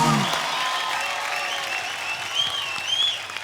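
Studio audience applause greeting Katrina Kaif on a comedy talk show, dense, steady clapping from a crowd with faint cheering over it, sustained and even.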